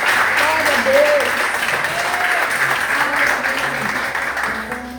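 Continuous clapping fills the church as the congregation applauds through the whole stretch, with raised voices and melodic praise carrying on top.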